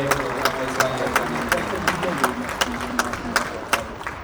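Audience applause at a bloggers' awards ceremony in an arena, a steady wash of clapping from a crowd with sharper individual claps standing out, loud and continuous, with a voice over it.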